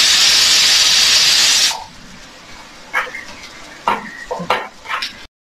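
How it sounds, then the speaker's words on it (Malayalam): Chopped garlic and ginger dropped into a hot pan for Kerala kadala curry: a loud, bright sizzle that cuts off abruptly, followed by scattered clinks and scrapes of a utensil stirring in the pan. "ഇനി നമ്മൾ അരിഞ്ഞു വെച്ച വെളുത്തുള്ളിയും ഇഞ്ചിയും കൂടി ഇടാണ് കേട്ടോ."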